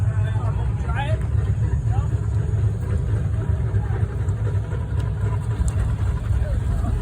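A Subaru car engine runs on a hill with a continuous low rumble that holds a steady level, while faint voices carry in the background at an outdoor car show.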